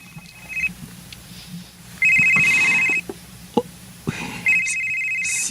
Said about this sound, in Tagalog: Si Bik rin nanawag